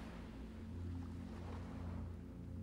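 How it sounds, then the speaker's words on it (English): Ocean waves on a shore at night give a steady, low, distant rumble of surf, continuous and soft without distinct breaks. "the waves crashing on the shore"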